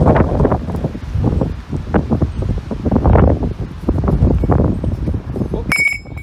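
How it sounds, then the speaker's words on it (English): Wind gusts buffet the microphone outdoors during a valve and backing plate repair, a broadband low rumble that swells and dips continuously for several seconds, loud and close, with a brief clatter near the end. "A little windy out for this today."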